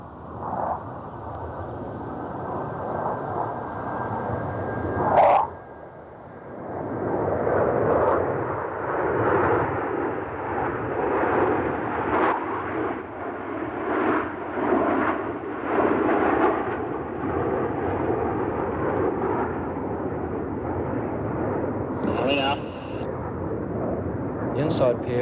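RNZAF aerobatic jets of 75 Squadron flying in formation during a 1990 display, a loud sustained engine roar that swells and holds for a long stretch with a sharp bang early on, while a commentator talks over it.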